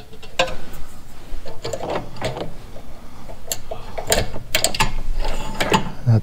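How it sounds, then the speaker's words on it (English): A screwdriver backing out a ground screw that holds a ring terminal inside an air compressor pressure switch, close up, making scattered small metallic clicks, scrapes and ticks. "I have to unscrew that all the way because it's a ring terminal"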